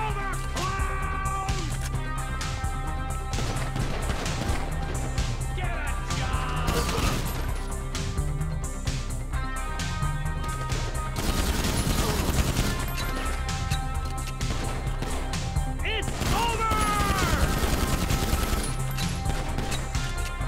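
Sustained gunfire and crashing impacts during a shootout in GTA V, dense overlapping shots under a steady game soundtrack, with shouted voices briefly heard.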